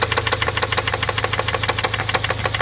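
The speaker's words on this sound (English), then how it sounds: "we stopped by pulling out the motor because the motor sounded like this" A Golf 7R's EA888 engine suffering a bearing knock runs close and loud, its steady idle punctuated by a rapid, regular metallic knocking that repeats throughout.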